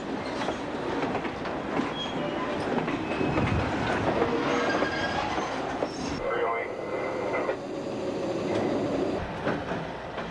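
A rebuilt Alco RS-3 first-generation diesel locomotive rumbles past with a train, wheels clattering and squealing faintly under steady engine roar, the sound staying close and continuous.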